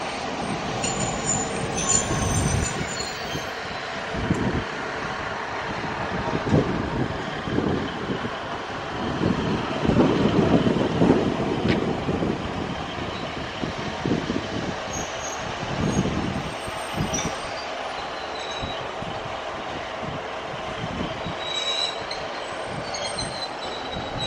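A train from Sheffield rumbles and clatters steadily as it pulls into the station, wheels squealing faintly over a broad continuous roar, no voices.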